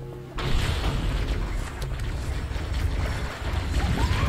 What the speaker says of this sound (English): Grenade right in the middle of the cluster. It's gonna blow!